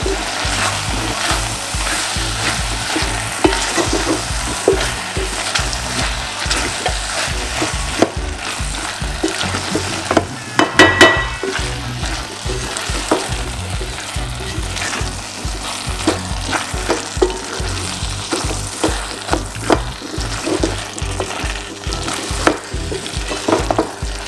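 Eggplant fries in a pan with vegetable stock squeezed in, a loud steady sizzle broken by repeated rhythmic scrapes and knocks of stirring, with a brief louder hiss partway through and no voices.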